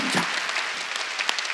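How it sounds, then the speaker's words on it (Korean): A church congregation claps during a New Year's Eve service, a brief, steady patter of many hands at moderate distance. "박수 치라고 하나님께 박수 치라고"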